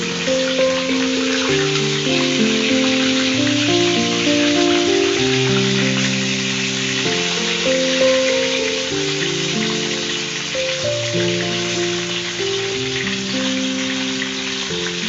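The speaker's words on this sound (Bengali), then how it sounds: "সবগুলো চিকেন আমি হালকা করে ভেজে নিই" Chicken wings fry in a pan with a loud, steady crackling sizzle that runs without a break, with background music playing over it.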